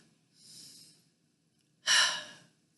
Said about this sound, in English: Number 2 is take a deep breath.